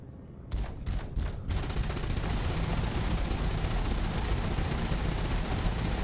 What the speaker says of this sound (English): Guns are all firing up.